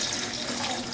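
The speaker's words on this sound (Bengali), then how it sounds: "বেরেস্তা ভাজা তেলের ভিতরেই আমি পানি দিয়ে দিলাম।" Water poured into hot oil left from frying onions, a brief steady rushing hiss of liquid filling the pot, close and moderately quiet.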